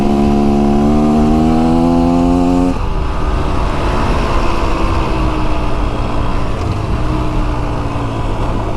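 A 2024 Beta Xtrainer dirt bike engine runs steadily while being ridden, a close, continuous buzzing drone with a higher revving tone early that drops to a lower, rougher throb, no talking over it.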